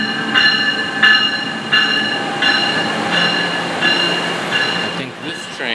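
NJ Transit train on the Northeast Corridor toward Trenton, a steady loud rumble of the railcar with periodic clacks from the wheels over rail joints, continuous throughout the ride.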